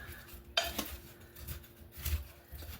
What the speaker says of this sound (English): we're just going to give that a quick stir